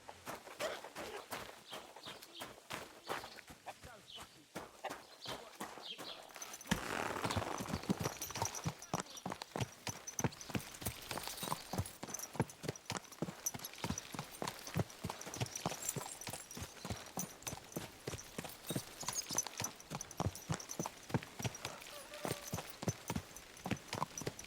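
Horse hooves clip-clop steadily in Kingdom Come Deliverance 2, a regular walking rhythm that starts softly and grows louder and closer after a few seconds, continuing evenly with faint outdoor ambience behind.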